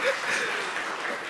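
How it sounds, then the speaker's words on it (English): A round of applause from a small group, light and scattered, with some chuckling and laughter mixed in, fairly soft and brief. "Everyone, round of applause."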